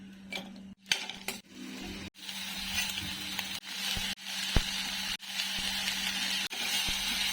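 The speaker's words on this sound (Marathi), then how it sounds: "आता हे सगळ्यांना आपण तेलामध्ये परतून घ्यायचं आहे" Steady sizzle of onions and spices sautéing in oil, with intermittent metal scrapes and clinks from stirring, a low hum underneath and occasional sharp pauses.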